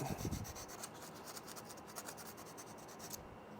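Light hand sanding with 400 grit sandpaper on the sharp feed lip of a .22LR pistol magazine gives a faint, quick rhythmic rasping of short strokes, close and quiet with no talking.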